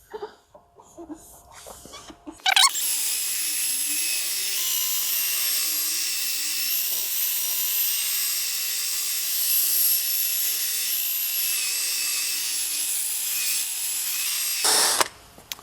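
A drill polishing a foggy VW headlight lens whirs steadily at close range for about twelve seconds, a high, even buzz that starts abruptly and cuts off at the end.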